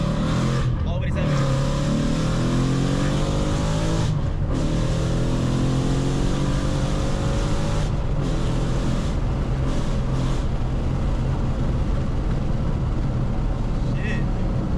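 A Ford Mustang GT with bolt-on modifications accelerates hard from second gear, its engine revving loudly and climbing through the gears with brief dips at the shifts, heard from inside the car under excited talk.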